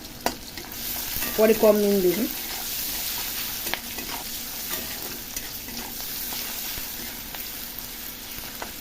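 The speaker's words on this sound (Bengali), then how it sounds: "পেঁয়াজটা ভাজার জন্য একটু হালকা নুন দিয়ে দিই," Chopped onions with a little salt frying in a pan, a steady soft sizzle with scraping stirs, and a brief voice speaking near the start over the cooking.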